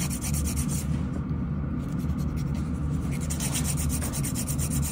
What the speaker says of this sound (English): I'm going to shape the nails.